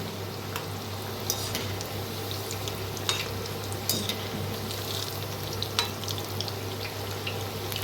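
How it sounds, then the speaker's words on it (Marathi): Colocasia leaf rolls (alu vadi) deep frying in hot oil until crisp, a steady dense crackling sizzle with occasional louder pops, close and continuous throughout. "दोन्ही साईडने छान असं तळून घेऊया क्रिस्पी"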